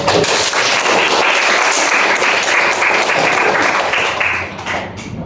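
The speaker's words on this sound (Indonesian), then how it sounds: "Ya boleh tepuk tangan ya buat." Audience applause at an Indonesian talk on artificial intelligence devices, with loud, dense clapping from many hands that holds steady before thinning out toward the end.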